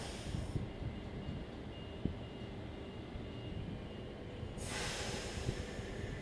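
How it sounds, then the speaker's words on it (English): NSW TrainLink H19 and H21 sets pulling out of platform 1 at Cowan station on a Central-bound morning peak service: a steady low rumble with a breathy whoosh, swelling into brighter hiss near the end, no voices. "H19 and H21 now departing platform number 1 for a Central Sydney Terminal service."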